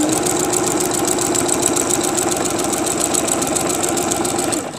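A sewing machine stitches down a beginner's quilt, running in a steady rapid mechanical whir with fast repeating needle strokes throughout before stopping at the end.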